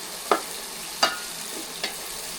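Chilies and onions frying in a pan for a homemade curry, a soft steady sizzle broken by three distinct stirring scrapes spaced about a second apart, close by with no voices.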